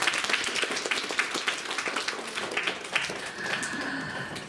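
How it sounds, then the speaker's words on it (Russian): An audience applauds after a C minor piano prelude at a commemorative concert, a moderate spread of clapping hands with a rhythmic quality, fairly distant and steady, easing slightly toward the end. "Еще раз попрошу аплодисменты"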